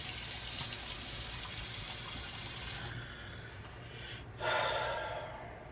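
A shaving brush is rinsed under a running tap, with a steady hiss of water close by that thins out, then a short burst of splashing as the brush is worked in the stream.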